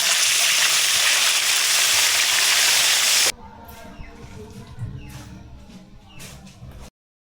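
Food frying in hot cooking oil during outdoor cooking, a loud broadband sizzle that fills the first few seconds and then drops to a softer, steady crackle with occasional pops until it cuts off.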